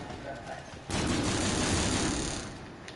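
Rapid gunfire from a shooter video game bursts in close and loud after a moment of quieter sound, a dense rattling volley that keeps going to the end.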